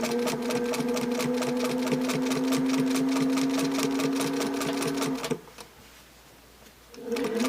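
A sewing machine stitches binding at quilt corners in a fast, steady mechanical chatter of rapid needle strokes, running loud and continuous for about five seconds before stopping, with a short quiet pause and then a brief restart.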